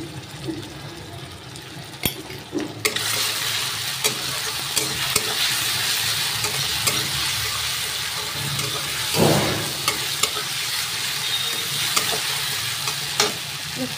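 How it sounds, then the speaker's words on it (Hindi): Chopped onions with a spoonful of ginger-garlic paste sizzle loudly in a pan for a potato and flat bean curry, a steady close hiss broken by scraping stirs and a few knocks of the spoon, with no talk. "हमारा प्याज फ्राई हो गया, इसमें अदरक लहसुन का पेस्ट एक चम्मच डाल देते हैं।"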